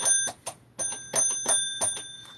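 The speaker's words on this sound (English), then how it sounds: "hit the bell" A small metal bell rings out in a series of bright, sharp strikes, each leaving a clear sustained ring, about six hits in quick irregular succession, close and alone.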